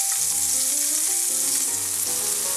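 Fish pan-frying in an overly hot pan, a steady broadband sizzle with spitting splatter throughout, close and loud, with faint tonal clinks underneath and no voices.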